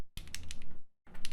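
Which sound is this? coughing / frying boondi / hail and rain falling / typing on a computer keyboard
typing on a computer keyboard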